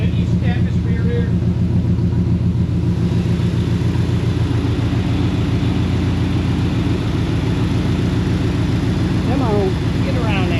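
A car engine running after a Ghost EFI conversion idles with a steady, loud low rumble and throbbing pulse, close by, with occasional pops and a few scattered voice fragments over it.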